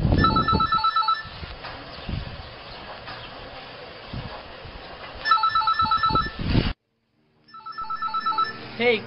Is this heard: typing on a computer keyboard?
no